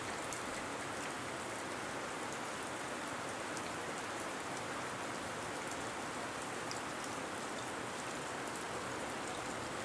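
Steady rain falls continuously, a dense even hiss of drops with no voices, constant in loudness throughout.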